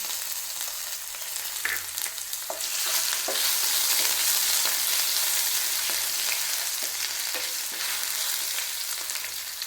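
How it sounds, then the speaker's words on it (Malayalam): Ginger and garlic fry in oil in a pan, giving a loud, steady sizzle with occasional stirring scrapes, close up and without voices. "ഇതിലേക്ക് ഞാൻ ഒരു സ്പൂണോളം ഇഞ്ചിയും വെളുത്തുള്ളിയും കൂടെ ചേർത്ത് കൊടുക്കും"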